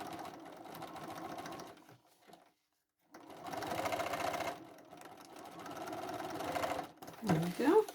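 A sewing machine stitches over the edge of a fabric bowl cover in two sustained runs of steady mechanical whirring, separated by a short pause, ending with a brief burst of handling noise.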